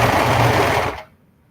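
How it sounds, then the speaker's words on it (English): Serger overlock sewing machine stitching a seat cover, a loud rapid mechanical whir running steadily for about a second, then stopping abruptly into near silence. "So I'm using my serger today to put this together."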